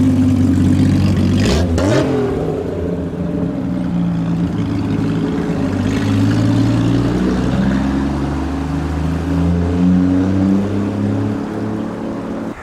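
A GT6 sports car with its exhaust taken off revs loudly up close, a sustained throaty engine roar that climbs and settles through several rev swings with no talking.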